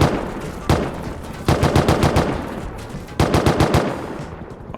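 Bursts of automatic gunfire ring out in the video game Rust as a full magazine is emptied at a helicopter's tail, three long rapid volleys of loud, close shots with brief gaps between them.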